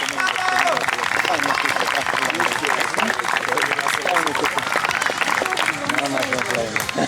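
Crowd applause at an outdoor prize ceremony for the women's winners of the Mogoșa Downhill Challenge 2016 mountain-bike race, steady and dense throughout while a voice talks over it.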